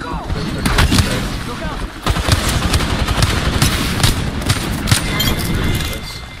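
Apex Legends battle on Storm Point: rapid bursts of gunfire with booming impacts, loud and dense, with a voice talking over parts of it.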